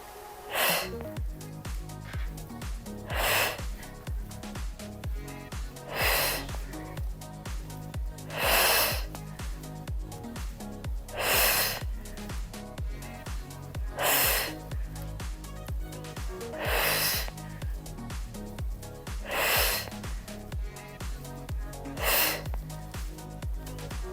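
Rhythmic exercise breathing during a home slimming and de-bloating workout, with sharp breathy exhales or snorts recurring about every three seconds over steady background music.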